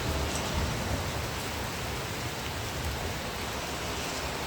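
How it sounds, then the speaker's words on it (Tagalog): Hail pours down steadily during a storm in Lakatamia, Cyprus, a dense, even roar of pellets hitting surfaces with no voices heard. "Bakit daw natatuwa ako na umulan ng ice?"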